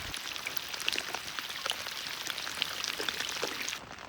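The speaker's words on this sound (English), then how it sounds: "And lots of rain all over." Rain falls steadily outdoors on a boat out fishing on the water, a dense close hiss of drops and patter pattering on surfaces that continues throughout, with no talking.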